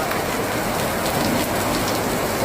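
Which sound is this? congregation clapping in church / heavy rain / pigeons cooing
heavy rain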